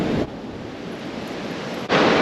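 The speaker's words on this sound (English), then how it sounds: "It's pretty windy today." Strong wind buffets the microphone in loud roaring gusts on a UK beach, easing briefly in the middle before surging again, with surf faintly underneath.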